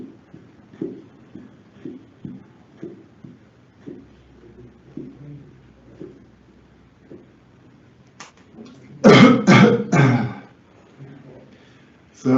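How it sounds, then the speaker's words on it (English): Quiet rhythmic puffs of air pumped from an ambu bag in short repeated bursts for air stacking, then a strong burst of several forceful assisted coughs close to the microphone from a person with muscular dystrophy. "I'm getting a cough that I wouldn't usually be able to get without stacking the air"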